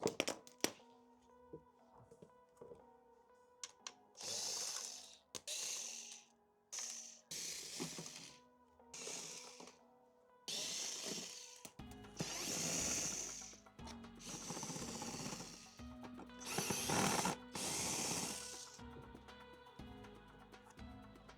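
Tools clatter and clank while the variator is taken off a Yamaha XMAX scooter: irregular metallic knocks, scrapes and short bursts of handling noise, close and fairly quiet with pauses between.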